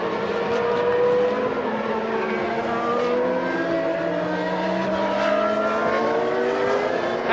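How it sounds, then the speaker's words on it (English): Formula One cars race at the 1993 European Grand Prix. Several engines whine at a high pitch and shift their pitch as the cars pass and accelerate, a loud layered roar that runs without pause. Nobody speaks. "Senna emerges from the pit lane."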